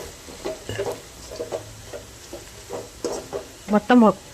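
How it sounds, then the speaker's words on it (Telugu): Chili powder stirred and frying in a pan, soft intermittent scraping strokes with a light sizzle underneath, ending in a couple of louder clattering scrapes close by. "ఒకసారి మొత్తం కలియ తిప్పుకొని ఒక 2-3 మినిట్స్ ఫ్రై చేయండి."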